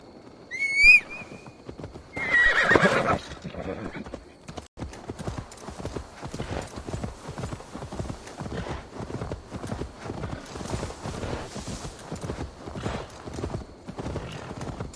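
A horse in Assassin's Creed Valhalla gives a couple of sharp neighs and snorts up front, then its hooves settle into a steady, rhythmic clip-clop at a walk, close and continuous to the end.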